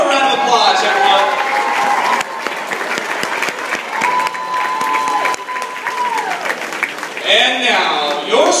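Crowd applause and cheering fill the gym at a Seattle Adaptive Sports Junior Sonics wheelchair basketball game, loud and steady for several seconds, with an amplified announcer's voice over it.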